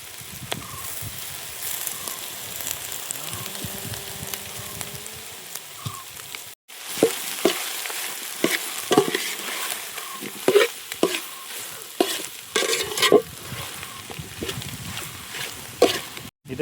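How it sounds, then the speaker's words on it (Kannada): Mutton liver and lungs frying in a pan, a continuous soft sizzle with repeated scraping and stirring clatters growing busier after a brief pause. "ಈಗ ಲಿವರು ಮತ್ತು ಲಂಗ್ಸ್ ಹಾಕಿದ ನಂತರ ಇದನ್ನು ಸಮೇತ ಚೆನ್ನಾಗಿ ಫ್ರೈ ಮಾಡ್ಕೊಳ್ಬೇಕು"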